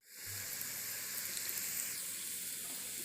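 Puri dropped into hot oil for frying, a sharp onset followed by a steady, bright, close sizzling hiss that holds evenly from start to finish.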